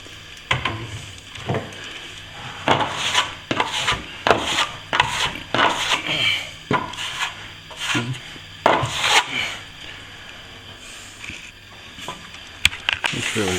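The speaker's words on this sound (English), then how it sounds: "maybe I'll just have the light sand before it's painted" Light hand sanding of a repaired ceiling and wall corner before painting: repeated short scratchy rubbing strokes in uneven bursts, close and fairly loud, with no talking.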